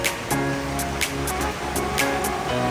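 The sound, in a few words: creek water flowing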